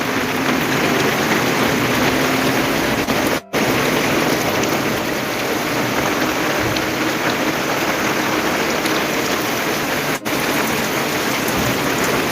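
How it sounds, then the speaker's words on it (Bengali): A heavy downpour pounds a flooded city street in a loud, unbroken roar with no pauses. Traffic rumbles faintly beneath it. "আবার জোরে বৃষ্টি নামলো রাস্তা দিয়ে চলাফেরার মতো অবস্থা নেই"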